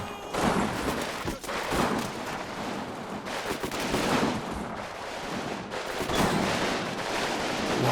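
Gunfire in the video game Combat Mission: Stalingrad, including a German MG34 machine gun, rattles in dense overlapping bursts for several seconds, loud and continuous with sharp cracks layered over a rumbling wash.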